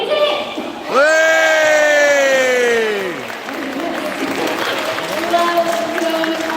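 A small group at a family fishing outing, with a child named Arthur, gives a loud shout of "go" that stretches out for about two seconds, then breaks into cheering, whoops and scattered voices.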